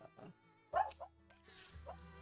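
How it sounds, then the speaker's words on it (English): Dog barks from the video game Harvestella, a few short yips and bow-wows over quiet game music, close and fairly clear with no talk. "We get all the barks, everything gone crazy."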